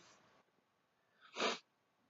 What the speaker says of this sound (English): Oh, I'm so sorry for the sniffing.